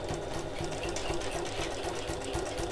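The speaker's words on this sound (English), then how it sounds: "So I can pop this under my presser foot and use the same construction stitch length, and we're going to sew across this turning gap." A sewing machine stitches across the turning gap of a bag at construction stitch length, a steady, quiet, evenly pulsing hum of needle strokes heard close and alone.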